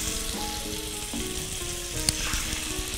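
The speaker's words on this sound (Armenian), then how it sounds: "Եվ հիմա տեղադրենք միսը, որպեսի տապակվի" Stuffed meat sizzles and fries steadily in a hot pan in a kitchen cooking set, with a continuous close crackle and a faint stirring clatter.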